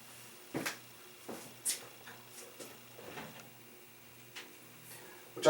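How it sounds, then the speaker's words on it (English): Toy figures tumble off a knocked-over shelf in a collection of S.H. Figuarts and Go-Kaiger figures, giving a string of light, scattered clicks and knocks spread over several seconds, fairly close and quiet, with no talking. "just knocked over my shelf over here"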